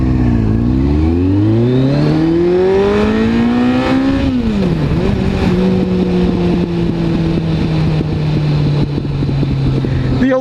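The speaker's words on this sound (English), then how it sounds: "The old ZRX is running really good." A stage 3 Kawasaki ZRX1200R motorcycle under way, its engine loud and close, rising and falling through gear changes, then settling into a steady drone with constant wind noise.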